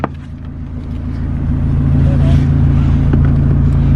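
A loud stock Mazda Miata drives on a mountain road, its engine rumbling steadily and close, rising slightly in level as it pulls along with no one talking.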